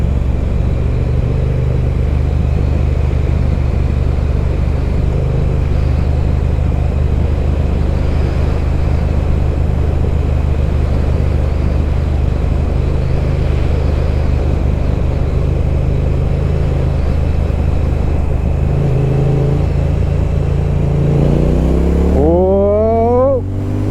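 A BSA motorcycle engine braking while riding downhill, steady droning engine rumble throughout with wind noise, closing in a rising whine as revs climb near the end.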